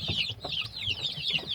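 Newly hatched village chicks (ayam kampung) peep continuously in high, rapid calls that overlap one another. The sound is close and steady and carries on for the whole stretch.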